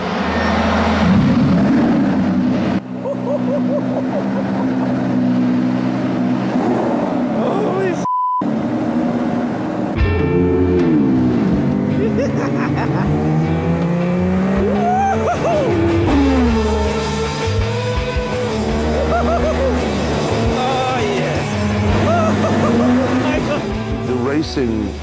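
A McLaren MP4-4 Formula 1 car is driven round corners, its engine note rising and falling in sweeping revs with gaps as it brakes and accelerates, fairly loud, with a voice heard at times.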